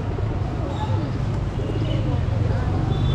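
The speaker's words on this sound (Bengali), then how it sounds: "এক ভাইয়া এক খাঁচা কবুতর নিয়ে আসছে" Pigeons in a cage at a busy outdoor pigeon market in Bangladesh, giving low, muffled coos buried in a dense wash of crowd chatter and market bustle.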